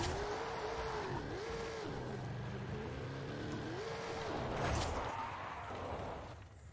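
Dodge Charger R/T in Forza Horizon 5 launching with a steady, loud engine drone and revs that rise and dip in stepped waves, swelling briefly near the end.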